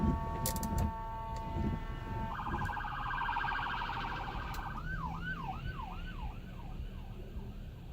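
An ambulance siren wails in repeating rising and falling sweeps, starting with steady tones, loud and close over background noise.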